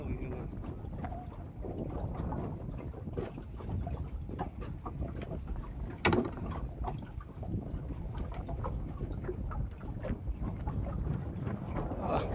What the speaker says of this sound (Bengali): ইঞ্জিন চালাবো